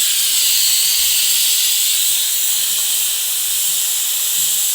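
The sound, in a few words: pressure cooker whistle hissing steam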